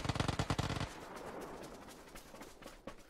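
Rapid automatic gunfire in a video game, a dense burst of sharp cracks that cuts off after about a second, leaving a fading rumble and a faint later shot.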